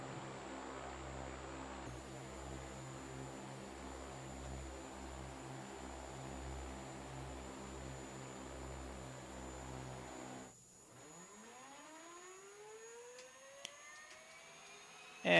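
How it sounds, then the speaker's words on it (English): Simulated OV-10 Bronco turboprop engines in Microsoft Flight Simulator winding down, a steady droning whir that drops away to a quieter fading tone with a descending pitch sweep, heard alone and fairly faint. "let's go ahead and listen to the spool down of this sweet aircraft"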